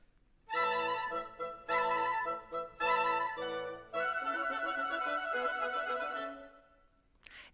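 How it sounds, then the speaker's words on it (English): A full orchestral woodwind section plays sustained chords and phrases, starting in short separated bursts and then swelling into a longer, fuller passage before ending, with no talking over it. "and now the full woodwind section sounds like this."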